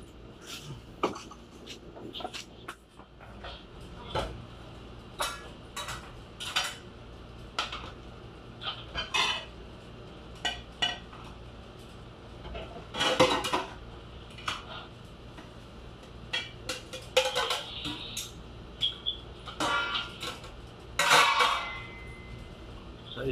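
Plates and dishes are put away one after another, sharp ceramic clinks and clatters scattered at irregular intervals over a quiet room, with fowl faintly clucking in the background.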